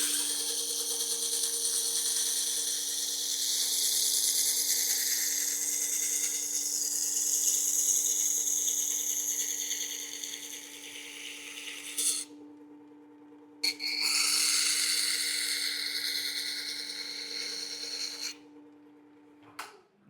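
A steel chisel is rotated against a Burke sharpener, making a continuous close grinding rasp with a steady whine beneath it that drops out briefly twice. No one speaks.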